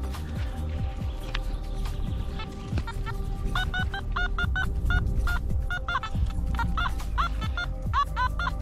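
A metal detector gives out short, repeated electronic beeps in uneven bursts while someone digs for silver, with a constant background hum and a few scraping noises underneath.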